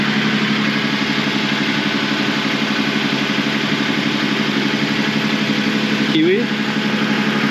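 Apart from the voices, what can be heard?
sailboat engine running while motor sailing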